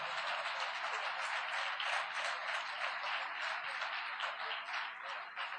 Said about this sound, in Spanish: Si va a aplaudir al Señor, apláudalo fuerte